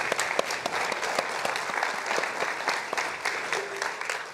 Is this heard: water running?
no